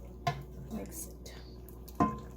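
A vegetarian lunch dish with crushed kasuri methi and chopped coriander is stirred in a pan, with a few sharp utensil knocks against the vessel over a faint background.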